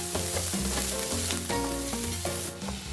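Garlic and onion sauté in hot cooking oil with a close, continuous crackling sizzle, broken up by the scrape and clatter of a utensil stirring the pan, no voices.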